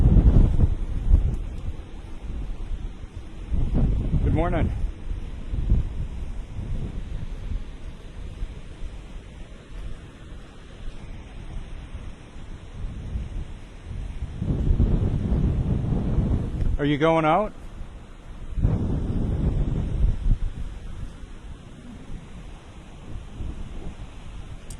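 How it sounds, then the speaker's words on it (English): Gusty wind blows beside the ocean, a low buffeting rumble that swells and fades throughout, with people chatting nearby over it. "the wind is blowing all different directions"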